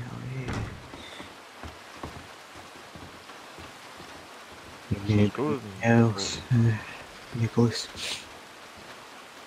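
Steady rain falls through a Red Dead Redemption 2 roleplay scene, a soft continuous hiss under the whole stretch while several people talk over it in bursts.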